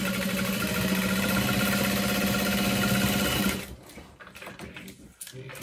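A sewing machine stitches a satchel bag seam at a 4 stitch length, a loud steady mechanical whirring drone that stops abruptly, leaving quieter handling noises.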